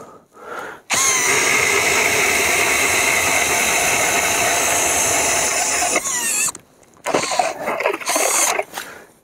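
A Nanwei cordless drill turning an ice auger bores into ice with a steady, loud whirring drone for several seconds, then stops and briefly restarts in short bursts, nearby and without speech.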